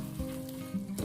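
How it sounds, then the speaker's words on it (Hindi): Fried chicken for chilli chicken sizzles quietly in a hot pan, a soft crackling hiss with a faint stirring clatter. "अब इसमें फ्राई किया हुआ चिकन है वो ऐड करेंगे, अच्छे से इसको मिक्स करेंगे।"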